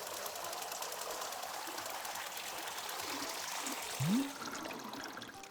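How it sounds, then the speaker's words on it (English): Water poured in the video game Wanderstop, a steady broadband trickling stream running throughout at even loudness, with a brief rising tonal chirp near the end. "There we go. We pours the water."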